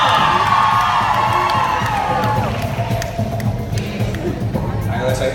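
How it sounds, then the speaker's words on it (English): A live stunt-show audience cheers, whoops and shouts loudly, children's voices among them, a dense continuous crowd roar that eases slightly toward the end. "Make some noise for Tierra!"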